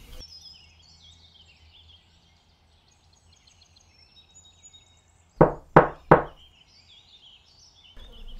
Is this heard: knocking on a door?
yes